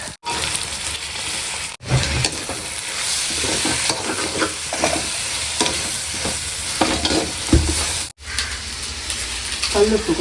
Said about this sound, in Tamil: வெங்காயம் இது பாருங்க நல்லா வதங்கிட்டு இருக்கு